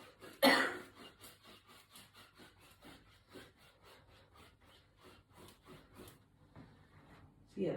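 A single sharp cough near the start, followed by steady rhythmic rasping strokes and a soft throat sound at the end.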